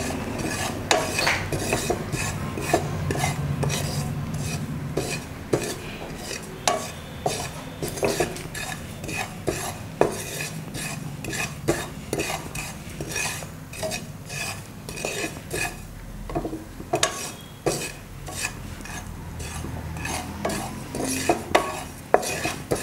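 Ajwain seeds dry-roasting in a pan as a utensil stirs them, giving steady scraping and clinking with frequent sharp metallic ticks over a dense, continuous rustle, fairly close and with no talk.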